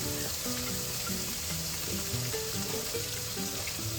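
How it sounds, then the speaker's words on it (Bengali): Hilsa fish frying in a pan gives a steady, close sizzling hiss that runs without a break, with a melodic tonal layer underneath. "এবার ভেজে নেব ইলিশ মাছটা"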